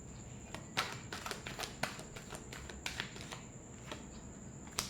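Tarot cards are shuffled by hand in quiet bursts of soft, crisp riffling and flicks, faint and close with no talking over them.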